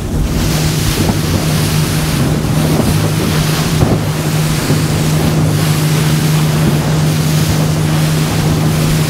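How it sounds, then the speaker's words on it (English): A 2019 Ribeye S785 RIB's engine hums steadily at speed through turns on the sea, with water rushing against the hull and wind buffeting the microphone. "a couple of turns so you can get a feel for what the boat's like in a turn"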